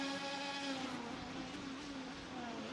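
A Formula 1 race car in a racing video game holds a steady, high droning engine note with layered harmonics, sustained throughout with no voices over it.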